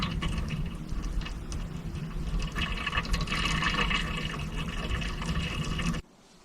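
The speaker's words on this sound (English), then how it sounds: "The good news is that the water continued to circulate anyway" Water circulates through a heating coil into an ammo can at a winter camp, giving a continuous gurgling, trickling rush that holds steady and then cuts off abruptly near the end.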